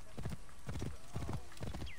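A horse galloping in Assassin's Creed Origins, steady rhythmic hoofbeats close by with a brief whinny near the end, no talking.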